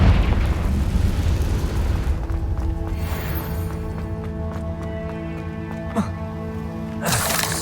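A Confringo blasting spell explodes in Hogwarts Legacy with a loud, broad boom over game music and ambience, then fades, and a sharp burst of noise hits near the end.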